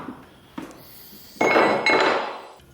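Hands rummage through a container for metal carburetor studs, producing sharp clinks of small metal parts, a knock near the start, then a louder stretch of jangling and scraping, close and with no talk.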